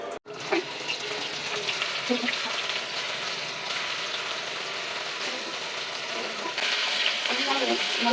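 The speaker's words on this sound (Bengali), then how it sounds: "আজকে ইলিশ মাছ ভাজা করবো খিচুড়ির সাথে" Hilsa fish fries in a pan, a loud continuous sizzle close by with occasional sharper pops and a brief burst of louder hissing near the end, and no speech.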